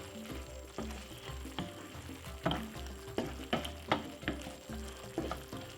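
Jerk-seasoned prawns with garlic frying in a pan, a steady close sizzle broken by rhythmic scraping and stirring strokes roughly every half second, with no voices.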